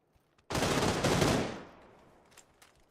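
A loud burst of automatic gunfire in PUBG on console, a rapid fusillade of close shots lasting about a second before fading into a decaying echo and quiet background.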